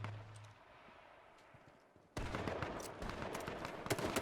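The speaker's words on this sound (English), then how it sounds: "More shotgun blasts happening in the distance." Distant shotgun blasts in a competitive shooter match, a quiet lull that abruptly gives way to loud, sustained rapid gunfire and impacts, with no talk.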